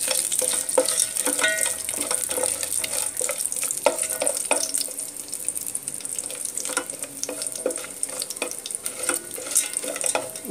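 Whole spices and a bay leaf frying in hot ghee for tomato pulao, giving a steady crackling sizzle with frequent sharp pops and spoon clinks throughout, close and fairly loud, with no talking.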